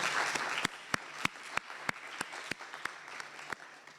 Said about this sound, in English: I just want to have you all give yourselves a round of applause